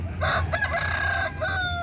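Loud nearby crowing from a gamecock at a cockfight venue: a full cock-a-doodle-doo with a long falling final note, heard over steady low crowd hum.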